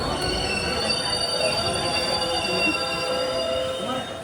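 Sri Lankan Railways train on the Jaffna to Kankesanthurai line, a steady loud rumble of a passenger train with faint wheel squeal and ringing tones, heard up close for a few seconds under crowd noise.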